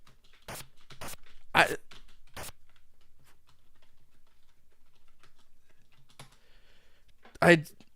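Computer keyboard keys struck in scattered bursts while a frustrated player hunts for the grenade button in an SNK game, sharp close clicks with long quiet gaps and a couple of louder vocal noises.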